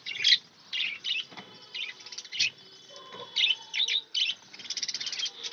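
Pet budgerigars in small and large cages chirp excitedly at feeding time, a busy run of sharp, high tweets in repeated bursts, fairly close and with no one talking.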